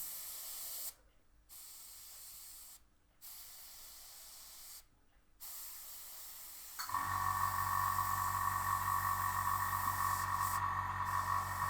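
Airbrush spraying paint onto a 1/35 Dragon M4A3 Sherman tank model, heard first as three short hissing bursts with gaps between them, then as one steady, loud, continuous spray hiss with a higher whistling tone on top.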